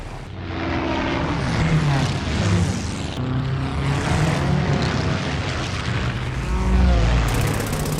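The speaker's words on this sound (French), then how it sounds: "2 avions allemands avaient été repérés au large des côtes belges" German propeller airplanes fly through a film battle scene, their engines a loud, steady droning roar that swells and shifts in pitch as they pass, with a deep low rumble building near the end.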